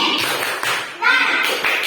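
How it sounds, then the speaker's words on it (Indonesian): A classroom of pupils performs a rhythmic group clapping chant, with quick taps and claps close by mixed with their chanting voices. "kita berikan tepuk pintar ya untuk kelompok 1 karena sudah berhasil menjelaskan materinya dengan bagus"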